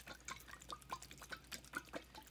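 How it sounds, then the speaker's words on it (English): Water is pushed through a pipette into a sea monkey tank, making quiet, rapid bubbly drips and gurgles in a close, continuous series. "I get water in it and I start pushing just water"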